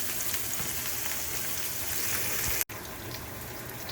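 Chorizo cooking in a pan, giving a steady, close sizzle and crackle of frying fat that carries on evenly, broken by one brief dropout near the end, with no talking.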